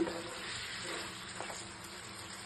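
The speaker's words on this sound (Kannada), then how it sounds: "ಚಿಕನ್ ನೀರೆಲ್ಲ ಸಪ್ರೇಟ್ ಆಗಿ ಚೆನ್ನಾಗಿ ಫ್ರೈ ಆಗಿದೆ." Steady, soft sizzling of chicken frying in a pan, a continuous crackly hiss with faint stirring scrapes, no voices.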